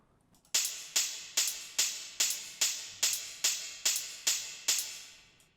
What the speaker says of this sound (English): I started to create this hi-hat patterns.